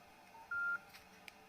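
A single short keypad tone, a clean electronic beep lasting a fraction of a second, followed by faint clicks in a quiet room.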